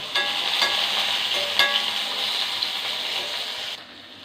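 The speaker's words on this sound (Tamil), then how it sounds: "எண்ணெய் காஞ்சிச்சு. இப்போ நம்ம வெங்காயத்தை போட்டுக்கலாம்." Chopped onions fry in hot oil in a pan, giving a steady, close sizzle with a few brief louder crackles, continuing evenly before stopping abruptly near the end.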